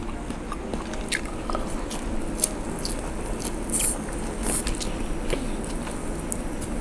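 Crisp pork bites eaten with egg noodles and roasted chili paste with shrimp fat, heard as close, steady crunching and chewing that runs continuously, with no talk.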